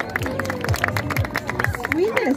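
Audience at a costumed dog contest applauding, a dense crowd clapping with cheers and babble while a voice talks over it and a high tonal sound sweeps near the end.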